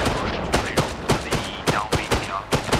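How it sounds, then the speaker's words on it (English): Mortar rounds land in the video game Arma Reforger, a rapid series of sharp booming impacts in irregular succession, loud and close with rumbling tails. "We've got a constant mortar fire down on us."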